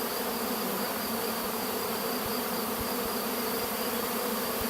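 Swarm of honeybees flying, a dense continuous buzzing drone, close and steady throughout, with no talk.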